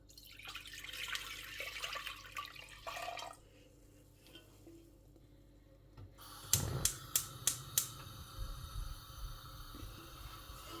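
Water is poured into a cooking pot for chicken mandi: a soft rush of pouring first, then a quiet stretch, then several sharp, distinct drips and splashes near the end, with no talking.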